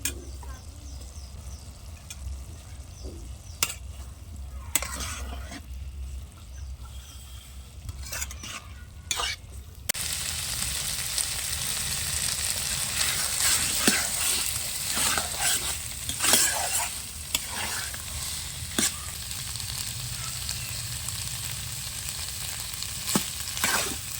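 Mutton and chopped tomatoes fry and are stirred in a pan for a Bihari mutton tadka, with steady sizzling that grows louder and denser halfway through and repeated sharp spoon scrapes and clinks against the pan.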